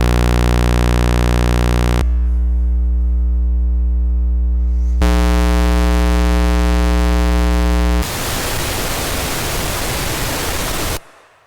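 A Minimoog synthesizer oscillator plays a loud sustained tone cycling through saw, triangle and square waveforms, each buzzy drone switching abruptly, then ends on a burst of hissing noise before cutting off.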